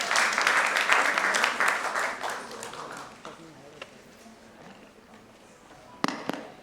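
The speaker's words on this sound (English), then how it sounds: "Please give a huge round of applause for her." An audience at a nursing conference applauds, a dense clapping that is loud at first and then fades to scattered claps, with a couple of sharp knocks near the end.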